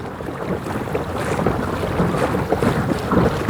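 Steady wind buffeting the microphone on a boat cruising into the wind with an ePropulsion Spirit 1.0 Plus electric outboard, a constant low rumble with gusty swells and faint splashing, no voices.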